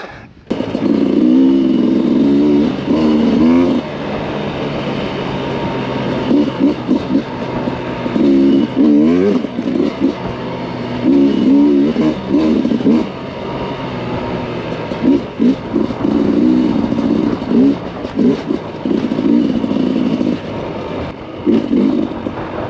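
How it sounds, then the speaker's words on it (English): A motorcycle engine revs hard while riding, loud and close, surging and easing in repeated bursts with wind rush between the throttle pulls. "What a great bike."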